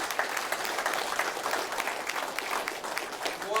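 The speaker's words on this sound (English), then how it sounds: "I'd just like to take a quick sec for a round of applause for Dr. Priyan Armagan." A crowd at a medical rally in Port Hardy gives a round of applause, steady clapping from many hands with no individual claps standing out, moderately near and unbroken throughout.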